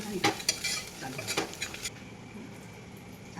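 A spoon scrapes and clinks against a pot in several quick strokes while taro-leaf curry gently sizzles, then the stirring stops and a soft sizzle remains.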